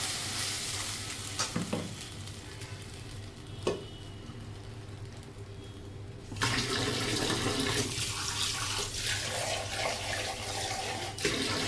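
In a home kitchen, water splashes steadily into a mixer jar, starting abruptly after a quieter stretch of faint clinks and continuing as a close, rushing pour.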